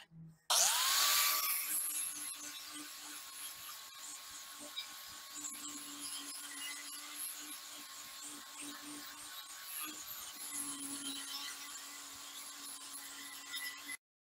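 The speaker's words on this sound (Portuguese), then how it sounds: "Eu vou usar a esmerilhadeira com disco bem grosso para desbastar" An angle grinder with a coarse disc grinds down dirty wood for a farmhouse decorative plaque, a steady high whine starting abruptly after a brief silence and running on evenly with slight load changes before stopping.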